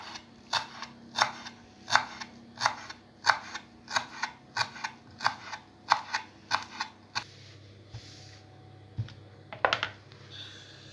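Dill gets chopped with a knife on a board in a steady series of crisp, close taps, about two per second, before the rhythm breaks into a few scattered knocks and a final quick flurry.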